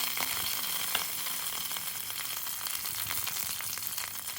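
Green chilies sizzle and fry steadily in hot oil along with garlic and curry leaves, a continuous dense crackle close to the pan with a few sharper pops, no voices over it.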